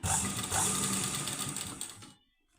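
A sewing machine runs steadily close up while stitching a leaf-neck blouse, a fast even whirring that stops abruptly near the end, leaving near silence.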